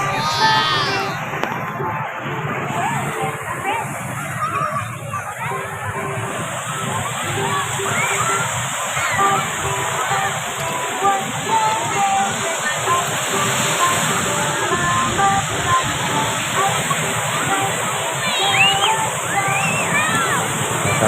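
Waves wash and surge in a constant loud roar at Krui beach, Labuan Jukung, on the west coast of West Lampung, with a high steady hiss over the top and people talking and calling over the water.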